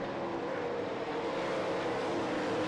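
Sprint cars racing at Knoxville Raceway: a steady, distant drone of several engines blending into one continuous roar, holding level throughout without any clear pass-by.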